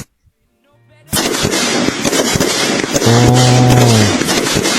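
Gunshots ring out at an Indonesian army (TNI Angkatan Darat) shooting competition in Thailand. After a near-silent start, rapid loud sharp cracks come in dense bursts, and a tonal hum sounds partway through.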